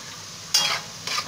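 Sliced onion dropped into hot beef fat, giving two short bursts of hissing sizzle over a quiet background, close by and with no talking.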